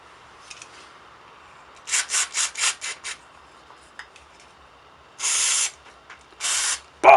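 A motorcycle part from a 1987 Honda CR250 is swished through oily petrol for cleaning, giving a run of five quick rubbing splashes followed by two longer sloshing washes, close and fairly loud, with no talk.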